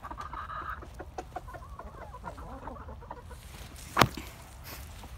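Pet chickens cluck softly and repeatedly nearby while pecking at ripe tomatoes, with one sharp knock near the end.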